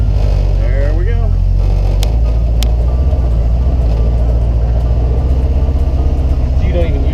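A 14-day flat-fender jeep rumbles as the clutch is slowly let out and it pulls away at low speed, a loud, steady engine drone with people talking over it.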